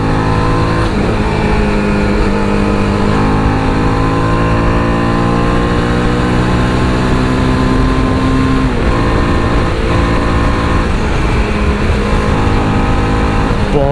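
A TVS Apache RR 310 motorcycle in sports and track mode runs fast and hard, its loud steady engine note rising and falling through the gears for the whole stretch, with no talk over it.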